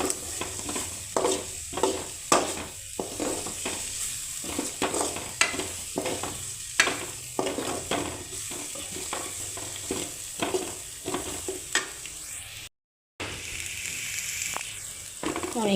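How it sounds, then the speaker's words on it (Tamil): Sliced onions sautéing in a pan for a Tamil tomato kurma, a steady sizzle broken by frequent scraping stirs of a spoon against the pan, up close and with no talk. "வெங்காயம் நல்லா பொன்னிறமாக வர மாதிரி வதக்கிக்கோங்க"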